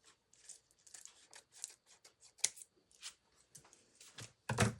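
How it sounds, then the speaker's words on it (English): Paper being trimmed with scissors during a glue craft project: a run of short, crisp snips at close range, irregular in rhythm, ending in a louder rustling crunch. "Let's trim this little piece off."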